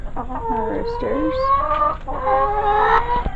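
Roosters and hens inside a homestead chicken coop cluck and squawk close by in a busy, overlapping chorus of wavering calls, some rising into drawn-out cries, with soft background noise underneath.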